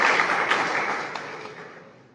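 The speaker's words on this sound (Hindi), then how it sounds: "ताली बजा सकते हो।" An audience claps at a Students' Federation of India (SFI) tehsil conference in Bhadra, Rajasthan: a dense burst of applause that starts loud and gradually fades away.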